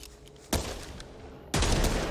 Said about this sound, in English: how does my gun shoot?